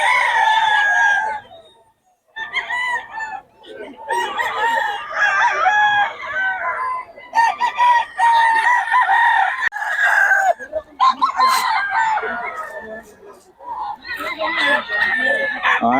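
Roosters crow repeatedly and chickens cluck at a backyard gamefowl farm, the calls loud and overlapping with brief pauses between bursts.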